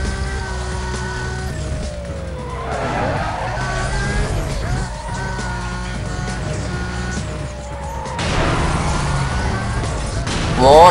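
A Lamborghini Gallardo in Need for Speed: Most Wanted races at speed, its engine rising and falling through gear shifts with tire squeal and passing traffic, fairly loud and continuous throughout.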